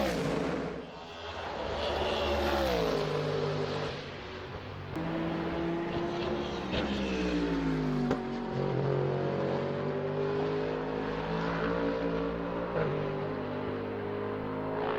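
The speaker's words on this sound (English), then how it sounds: "It's American, proper American V8." An American V8 car's raw exhaust revving hard, deep throaty engine tones rising and falling through several sustained pulls, close and loud with no talk.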